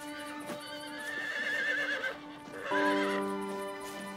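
A horse in an animated cartoon gives two long whinnying neighs, the second louder and more drawn out, heard close and clear with no talk over them.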